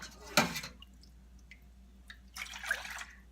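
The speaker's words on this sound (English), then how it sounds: "I'm going to put in a couple of cups of the bone broth" Bone broth poured into a pan on a stovetop burner for egg drop soup, a sharp splash followed by soft drips, then a second burst of liquid splashing close by.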